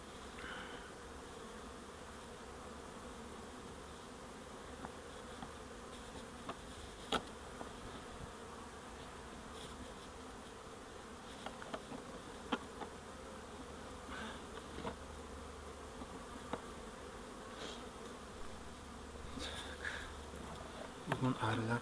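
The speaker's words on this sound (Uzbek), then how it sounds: "Bugun arilar zo'r ishlayapti." Honey bees swarm around their hive while returning with pollen, making a steady, soft, dense buzzing drone with a few faint clicks and brief louder passes close by.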